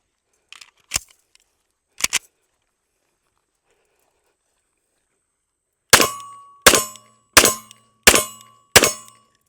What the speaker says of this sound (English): let's do a quick clear check before I walk away